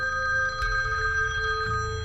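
A payphone rings with a steady, continuous electronic bell tone, close and clear with a faint low hum underneath.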